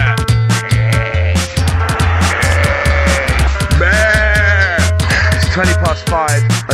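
Sheep bleat in a roadside field along rural villages, several loud wavering bleats close by over steady wind rumble and the passing whir of a bicycle.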